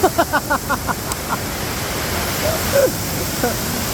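Steady rushing water of Sangbay Falls, a constant broadband roar under brief voices and a short rhythmic vocal sound at the start.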